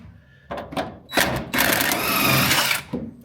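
A power tool spinning a bolt out in reverse on an HG Holden while a spanner presses on its head, with short whirring bursts building to a louder sustained grinding spin, close up.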